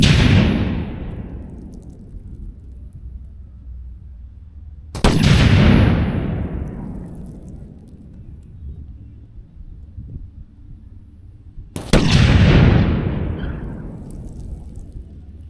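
Thunder Mug signal cannons fire three loud, booming blasts spaced several seconds apart outdoors, each with a long rumbling decay that fades before the next shot.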